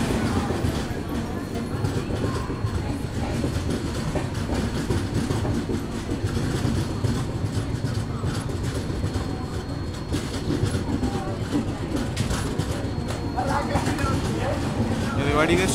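Rajasthan Humsafar Express train picking up speed on the rails, a steady loud rumble of wheels and carriage noise throughout, with the rhythm staying even from start to finish.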